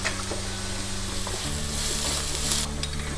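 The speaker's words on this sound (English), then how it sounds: "add in half a cup of chopped onions, and then we saute that till translucent" Half a cup of chopped onions sautés in hot olive oil, a lively continuous sizzle and crackle with stirring, close up and steady from start to finish.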